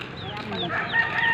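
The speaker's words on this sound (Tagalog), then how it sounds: "Ay, sisiw." Chicks peep in high, sweeping chirps while chickens cluck close by, a steady overlapping chorus with no talking.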